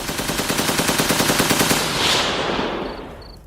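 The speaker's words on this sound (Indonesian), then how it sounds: "suara rentetan senapan otomatis mengarah ke area pesawahan" An automatic rifle fires a rapid, sustained burst toward rice paddy fields, loud and close, with shots rattling for about two seconds before the sound decays into a fading echo.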